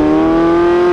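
Naturally aspirated V8 of a Porsche 918 Spyder, a loud, sustained close engine tone holding steady for about a second.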